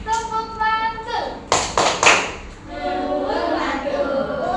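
A classroom group does a rhythmic clapping chant, a few sharp claps and taps bunched together amid children's chanting voices, with a teacher-like voice speaking before and after.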